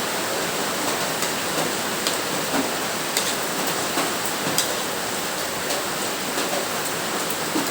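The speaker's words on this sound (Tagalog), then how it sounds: "Lakas ang ulan." Heavy rain pouring in a steady, dense hiss with occasional louder drops, moderately loud and continuous throughout with no voices.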